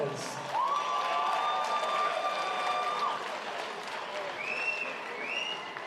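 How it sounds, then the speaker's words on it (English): A boxing crowd at an amateur bout applauds both fighters, a broad, moderately distant wash of clapping and cheering while a ring announcer's amplified voice rings over it. "Let's hear a big round of applause for both these fighters."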